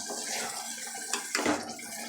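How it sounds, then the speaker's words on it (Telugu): Water is poured into a pan of ivy gourd (dondakaya) masala curry, a steady close splashing gush with a brief louder slosh near the end, no voices. "ఒక్క అర గ్లాసు వాటర్ వరకు యాడ్ చేసుకుందాం"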